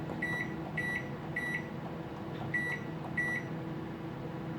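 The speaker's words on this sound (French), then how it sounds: "je le mets puissance maximum pour 7 minutes" A microwave oven runs at maximum power with a steady low hum and fan whir, while a series of short electronic beeps sound in quick groups over the drone.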